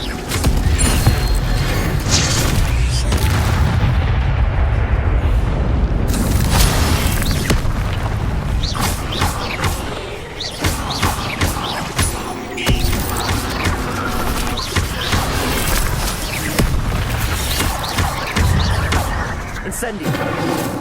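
Incendio fire spell bursting repeatedly in Hogwarts Legacy, loud booming blasts and crackling flame through a dense, continuous battle din with music and effects throughout.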